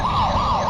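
A wailing police siren rises and falls in steady sweeps, loud and continuous, over road noise.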